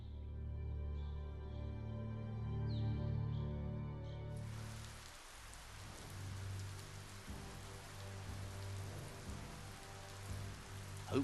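Rain in the video game Biomutant, a steady hiss of rainfall that swells in abruptly after a stretch of tonal music and soft chimes, then continues as a dense, even wash.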